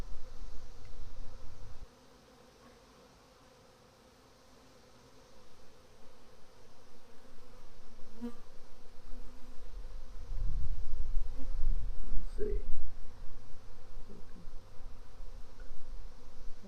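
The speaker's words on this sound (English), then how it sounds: "Bunch of healthy looking bees." Dense, steady buzzing of many honey bees swarming around an open beehive full of brood, close and continuous, rising and thickening toward the end with brief low handling bumps.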